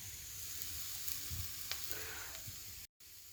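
Onion and minced meat fry in a pan for cabbage rolls, giving a continuous close sizzle with small crackles and a brief cut near the end.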